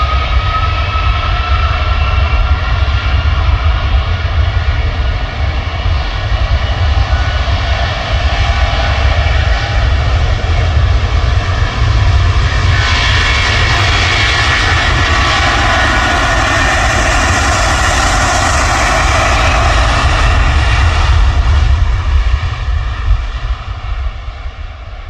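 A Virgin Atlantic jet airliner takes off, heard from an airport viewing park: a loud, steady engine roar with a broad rumble and hiss that swells slightly, then fades near the end.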